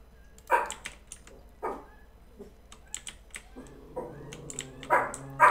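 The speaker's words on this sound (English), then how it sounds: "My dogs are barking." Several sharp dog barks, moderately close, break out in short bursts amid background game sounds and soft clicking like keyboard typing, with a louder cluster of barks near the end.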